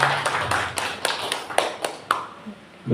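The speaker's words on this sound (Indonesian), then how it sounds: "Tepuk tangan untuk" Hands clap in a steady, fairly slow rhythm for a presenter at a teacher training session: a handful of sharp claps that fade into quiet near the end.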